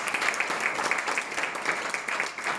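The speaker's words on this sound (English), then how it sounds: "let's give our founder, #1 income earner with Zinzino, Orjan Salih, a big round of applause" Audience clapping for founder Orjan Salih at a Zinzino event, soft, steady applause with a somewhat distant, even texture.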